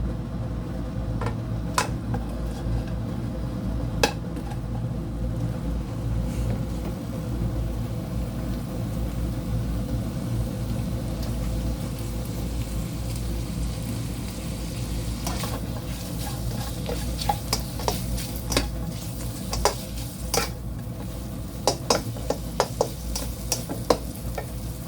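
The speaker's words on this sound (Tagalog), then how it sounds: "Bahagya ko munang i-fry yung ating meat" Roasted duck meat being lightly fried in a pan, a steady sizzle with frequent scattered clicks and stirring scrapes, continuous throughout.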